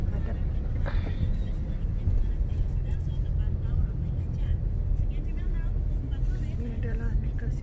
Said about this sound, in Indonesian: Trafik lalu lintas sangat padat.